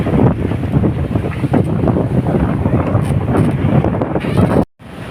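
Strong wind buffets the microphone steadily over open, choppy sea from a boat, a loud continuous rumble that cuts out abruptly near the end.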